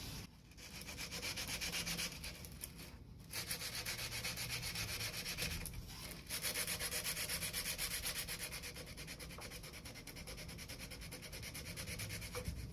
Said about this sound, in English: I'm going to use one of my belt grinder belts to hand sand this